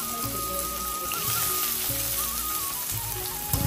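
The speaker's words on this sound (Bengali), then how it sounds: "তোমার তেল অনেক গরম হয়ে গেছে। ও দেখো কত গরম।" Very hot oil sizzling in a pan for hilsa cooking, a crackling, rain-like spatter close by with intermittent low thumps and a louder pop near the end.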